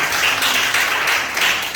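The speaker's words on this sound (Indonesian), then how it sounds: "tepuk tangan buat dia sekarang" Church congregation clapping together in a dense, loud, continuous burst of applause that holds steady throughout, with slight surges in intensity.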